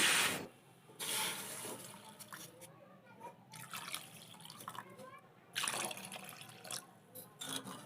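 Water poured into a wok to make sugar syrup for ros bora, four bowls of water to one bowl of sugar; a close, steady splashing pour that comes in bursts with short pauses, with a voice talking over parts of it.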